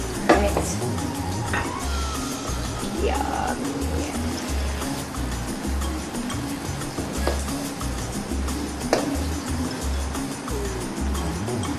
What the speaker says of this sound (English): I heat up some butter and some olive oil.